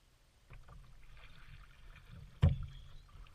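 A paddle dips and pulls a small boat through calm water outdoors. Faint soft swishes come first, then one sharper splashing knock of the paddle near the end, close and quiet.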